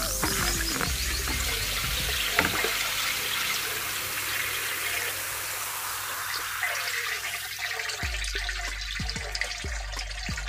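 Jaggery dissolved in water and mixed with buttermilk is poured slowly into a container, giving a steady liquid rush and splashing that fades later into scattered drips and sloshes, with no talking.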